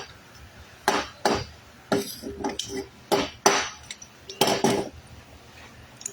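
Hammer smacking hot bolts, a series of sharp metallic clanks and rings, about a dozen blows in uneven rhythm, close and loud.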